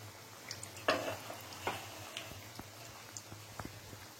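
Moong samali frying in oil as it is stirred gently, with a few soft sizzling bursts and light utensil scrapes over a low steady hum, fairly quiet and close.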